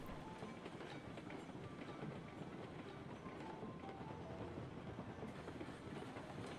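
A train runs steadily in a railway sim set on the Lake Chama & Pacific Railroad, with a continuous faint rumble and rhythmic clatter throughout and no talk over it.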